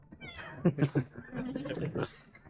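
A cat on a fish raft off Lamma Island meows in a few short, close calls, with people talking around it.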